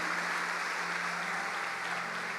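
Congregation applauding at a church service, a steady dense wash of clapping throughout, filling the space evenly with no voices rising above it.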